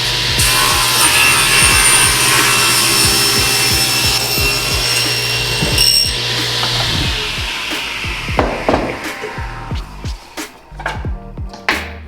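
A timber pergola beam is cut with a loud, continuous sawing whine close by, which ends near the middle of the clip and gives way to scattered knocks and clatter.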